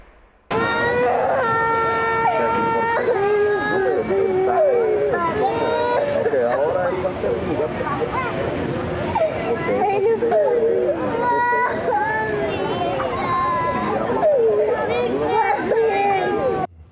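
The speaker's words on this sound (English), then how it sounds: "Children crying as they struggle to make sense of what's being done to them." Children wail and sob loudly and continuously, with some whimpering and overlapping voices and adult talk in the background.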